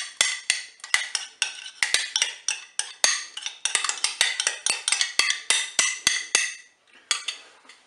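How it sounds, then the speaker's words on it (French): Saffron being stirred into crème fraîche for a Cookeo mussel sauce: a quick series of sharp utensil clinks and scrapes against a bowl, close and fairly loud, in an uneven rhythm with brief gaps, no talking. "j'ai mis ma demi-dose de safran dans la crème fraîche. Je mélange."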